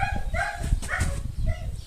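A dog barks and yips outdoors on a farm walk, with a few short, fairly close barks in a quick irregular series over background noise.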